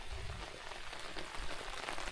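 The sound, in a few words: rain falling at a remote campsite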